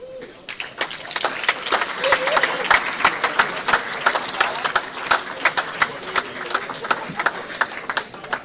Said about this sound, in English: Please keep clapping, they're not here yet.